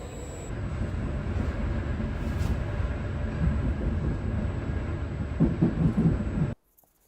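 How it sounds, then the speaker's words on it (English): Inside a train station in Pisa, Italy: a steady low rumble of a train and rail cars for about six seconds, with faint clattering near the end, then a sudden cut to silence. "here's some more of the train station."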